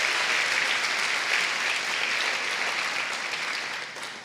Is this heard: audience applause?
yes